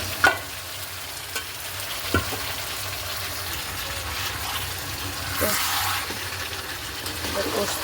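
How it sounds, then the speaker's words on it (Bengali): Chicken goes into a pan of fried onions, potato and papaya, bringing a soft sizzle and scraping stirs with a few clatters, while a voice talks quietly underneath. "পেঁয়াজ ভেজে নিয়েছি এবার দিয়ে দেবো এই মাংসটা"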